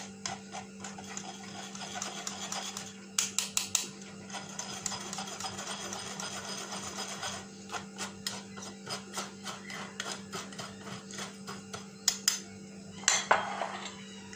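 Dry ingredients for a blender cake, two spoonfuls, are sifted through a sieve over a bowl, close and faint. Light rhythmic tapping and rattling comes in quick bursts with brief pauses, and no one talks.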